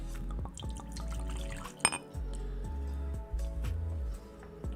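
Whiskey poured into a glass, giving a soft, steady trickle of liquid with a faint clink partway through, heard close and fairly quiet over low background hum.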